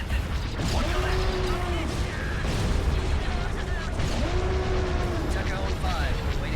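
Cannon fire booms in a Star Wars Empire at War space battle. Dull blasts recur under a steady rumble of engines and battle noise, with clipped radio voices talking over it.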